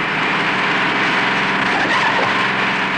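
A radio truck races across a runway beneath an aircraft wing, a continuous loud engine roar with skidding tire noise, dense and steady throughout.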